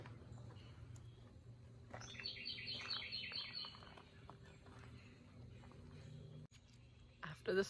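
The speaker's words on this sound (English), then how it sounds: "The storm, the birds come back out." Birds chirping outdoors just after a rainstorm, a burst of rapid high tweets rising over a low background hum, moderately near, followed by a brief clattering noise at the end.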